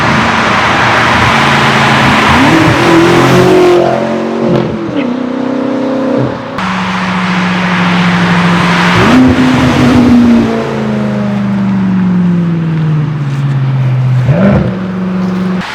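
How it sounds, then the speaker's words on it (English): Straight-piped BMW M6 Gran Coupe with a manual gearbox and a Meistershaft race exhaust revving hard, loud raspy climbs and falls with gear-change pauses, a brief drop to near quiet, then further pulls close by. "my dad's M6 Gran Coupe manual is straight piped with the proper Meistershaft Race Exhaust"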